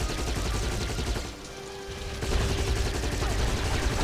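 Turret gunfire in a video game rattles in dense, rapid bursts close up, dipping briefly near the middle before the shooting picks up again louder.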